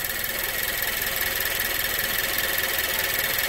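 A 2015 Nissan Juke Nismo RS with a new blow-off valve, its engine settling slowly back toward idle, a steady continuous drone with a faint whine and no talking.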